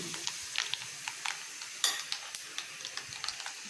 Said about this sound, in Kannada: ಒಗ್ಗರಣೆ ಎಣ್ಣೆ ಚಿಟಿಪಿಟಿ ಅಂತ ಶಬ್ದ ಮಾಡ್ತಾ ಇದೆ